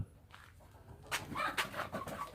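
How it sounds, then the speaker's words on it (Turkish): Chickens cluck in short bursts from about a second in, several birds close by indoors, sheltering from cold rain, with a steady background hiss. "Tavuklar da soğuktan girmiş içeri arkadaşlar çıkmıyorlar."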